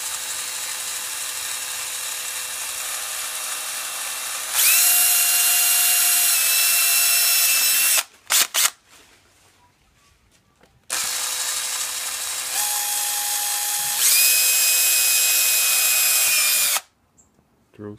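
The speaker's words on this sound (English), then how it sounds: "Drill's turning backwards." Electric drill running in reverse while building a vacuum for a saw bench, two long whining bursts of several seconds each with ratcheting changes in pitch, separated by a short pause with brief clicks, loud and close, no talking.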